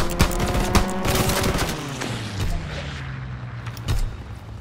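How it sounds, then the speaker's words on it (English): Gunfire from a fighter aircraft's strafing run in a shooter video game killstreak: loud rapid bursts of shots and heavy impacts, followed by a rumbling, fading roar. "Fighter pilot ready for strafing run."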